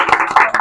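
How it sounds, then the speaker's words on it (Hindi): Hands clapping at a birthday celebration, a short burst of claps with three louder peaks, close and lively. "तालियां तालियां।"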